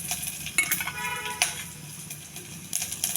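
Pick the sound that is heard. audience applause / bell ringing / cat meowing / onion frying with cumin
onion frying with cumin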